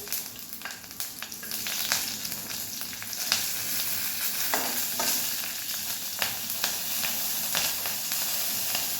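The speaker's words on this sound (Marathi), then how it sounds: "गॅस थोडासा मोठा करून मिरची लगेच आपल्याला फ्राय करायला टाकायची आहे" Green chillies hit hot oil in a preheated kadhai over a raised flame, giving a lively, close sizzle dotted with sharp crackles and spatters that keep going throughout.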